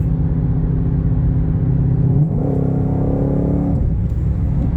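A Ford GT500 idles with a deep steady exhaust rumble, then the engine note rises briefly in a short rev and settles back to a loud close idle, with no voices.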